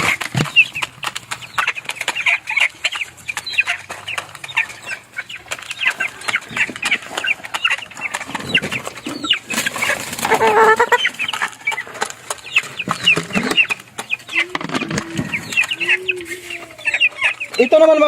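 Backyard hens cluck and chatter nearby, with bursts of wing flapping and scattered bird calls throughout.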